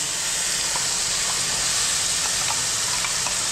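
Red chili paste poured into hot oil with asafoetida for a spicy Kolhapur-style garlic and red chili chutney gives off a steady, loud, continuous sizzling hiss, heard on its own.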